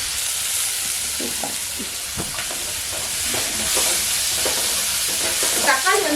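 Onion and a small tomato sauté in a pan for potato masala, a dense continuous sizzle with faint scraping stirs and soft pops near the mic, growing slightly louder toward the end, with no voices.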